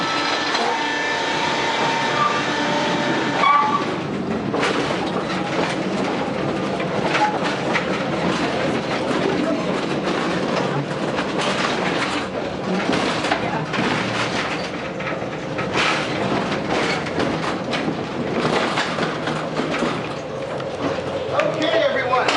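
A tour train runs through an underground coal mine, a loud, continuous rumble and rattling clatter of rail cars on track that carries on without a break throughout.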